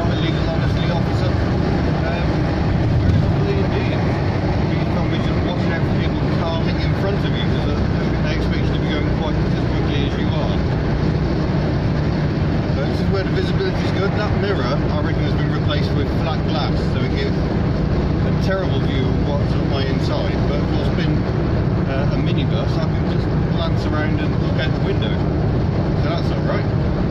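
A Volkswagen T25 (T3) Caravelle GL automatic van cruises on the M25 motorway at around 70 mph, giving a continuous loud drone of engine, tyres and wind that never lets up, with no talking.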